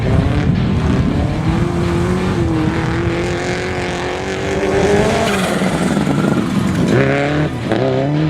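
Rally cars racing at a rallycross event, loud revving engines shifting pitch with tire squeal and skidding, cars passing close by.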